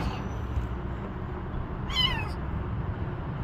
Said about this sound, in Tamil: இப்போ அந்த பூனையை நம்ம மீட்க போகிறோம்.